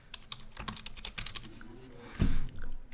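Rapid typing on a computer keyboard, a close run of light key clicks with a heavier thump near the end, no talking.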